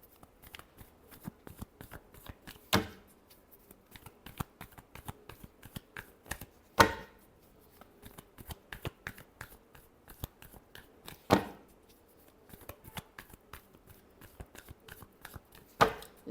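Tarot cards being shuffled by hand, a run of soft riffling flicks with a few sharper snapping bursts spaced several seconds apart, close and fairly quiet, with no talking.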